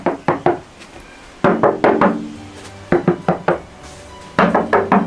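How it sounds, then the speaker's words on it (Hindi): A camper van's metal body panel, lined with sound-deadening mat, is struck in quick clusters of dull knocks, two to four raps per burst, close and loud, with a muted, wood-like thud and no talk. "ऐसी आवाज आ रही है कि लकड़ी का दरवाजा है।"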